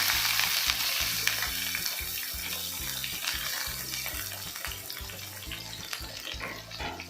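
Cumin, mustard seeds, curry leaves, crushed garlic and onion frying in a pan, giving a quiet, continuous hissing sizzle close by with faint low rhythmic thumps underneath and no one talking.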